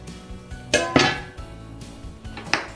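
Dough being mixed in a large bowl, a flour mixture stirred and worked together, with a few clinking knocks of utensil against the bowl amid quieter scraping and shuffling, with no talking.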